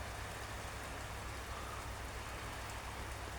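Steady rain falls during a thunderstorm, a soft, even hiss of drops on surfaces, constant and fairly faint, with no thunder or voices standing out.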